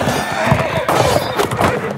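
A horse neighs and whinnies loudly and close by, with thuds and hoof clatter mixed in amid the commotion of a wartime scene.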